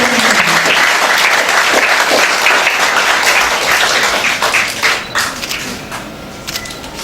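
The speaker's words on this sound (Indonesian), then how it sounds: "Kami mohon Bapak Ibu memberikan tepuk tangan yang meriah atas reaksinya bersama" Dense applause from a seminar audience at Universitas Triatma Mulya fills the room, loud and sustained at first, then thinning into scattered claps toward the end.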